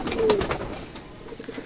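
Fancy pigeons, including a Girbaz tumbler, cooing as they leave their coop, with soft low coos that are clearest near the start, then quieter bird murmurs and scattered rustling.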